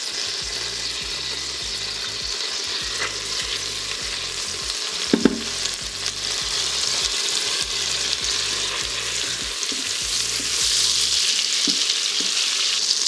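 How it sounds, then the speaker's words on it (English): Cumin seeds and bay leaf sizzle steadily in hot melted butter in an Instant Pot, with a constant frying hiss, faint rhythmic mechanical ticking underneath and a brief clatter midway. "Once it hot, I'm going to add cumin seed and bay leaf."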